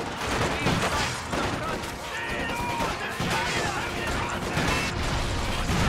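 A battle in the video game Company of Heroes 2 keeps up dense crashing explosions and bursts of gunfire, loud and continuous throughout.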